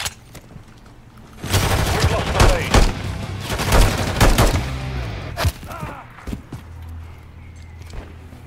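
Video game gunfire in a shooter match, loud bursts of automatic fire and sharp shots clustered over several seconds, with clattering impacts, then tapering into sparse pops.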